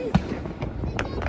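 Bonfire night fireworks burst at a distance, with a few cracks and bangs over a constant rumbling background while people talk nearby.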